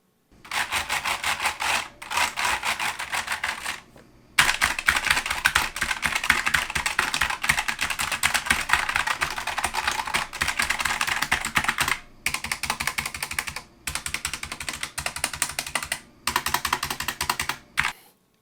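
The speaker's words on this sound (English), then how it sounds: "when typing on a Wooting One, there's a lot of rattle and there's a lot of ping" Typing on a Wooting One analog mechanical keyboard produces dense, close clacking keystrokes with rattle and metallic ping, in steady bursts separated by brief pauses.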